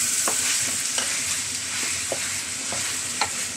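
Pork humba fries in a pan with a loud, constant sizzle, broken by a few spoon-stirring scrapes and taps at irregular intervals.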